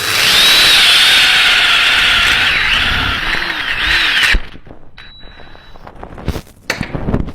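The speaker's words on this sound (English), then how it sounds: "I'm just going to go right on through till the whole reamer's all the way through." A reamer cutting through a valve guide on a 1974 Harley-Davidson Shovelhead engine, a loud steady whining grind with wavering pitch that stops abruptly partway through, followed by quieter clicks and handling noises.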